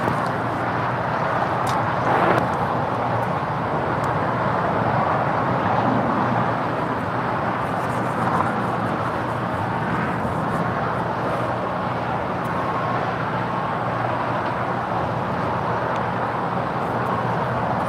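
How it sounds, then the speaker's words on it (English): Spirit Airlines Airbus A321 arriving from Las Vegas and landing at LAX, a steady broad jet roar that holds at a constant level throughout with no clear rise or fade. "Spirit Airlines flight 1719 coming in from Las Vegas. It's an A321."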